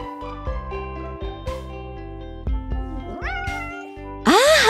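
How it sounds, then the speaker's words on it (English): A cartoon kitten mews several times in short, high cries, with a louder, drawn-out meow at the end, set against music with a steady plucked backing. "It's a kitten."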